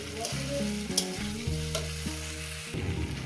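Vegetables for a dal made with four kinds of vegetables sauté in a pan, a faint steady sizzle beneath louder tonal music that plays throughout.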